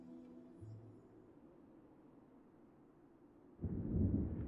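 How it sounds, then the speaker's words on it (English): Thunder in the video game Fire Emblem Three Houses opens as a quiet tonal game scene, then a deep rumbling roll swells suddenly and loudly near the end. "I hear thunder."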